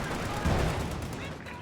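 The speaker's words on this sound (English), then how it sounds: "A supportive strafing run here." Rapid machine-gun fire from an aircraft strafing run in a video game, heard as a dense, steady rattle that stays loud throughout, with a voice talking over it.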